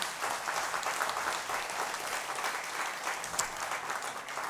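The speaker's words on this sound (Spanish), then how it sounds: "Dele un aplauso al Señor." A church congregation applauds during a Spanish-language sermon, sustained clapping from many hands spreading evenly through the room, steady and moderately loud, with no talk over it.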